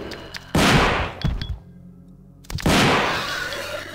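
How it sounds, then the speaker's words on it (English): Two heavy super shotgun blasts from the 1998 Resident Evil 2 game, each a loud booming shot with a decaying tail. A quiet gap separates them. "He's gonna catch one of these super shotgun rounds to the dick."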